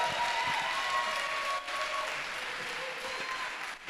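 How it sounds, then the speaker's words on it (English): Applause from the audience at an annual steel band orchestra concert, a steady wash of clapping heard from a distance, fairly faint, with a brief dip midway. "let's give them another round of applause"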